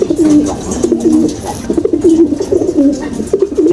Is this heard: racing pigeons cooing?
yes